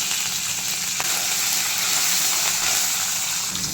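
A sprig of curry leaves hitting hot oil in a pan for samba rava upma, a dense, continuous sizzling hiss up close, loud and unbroken, with no speech.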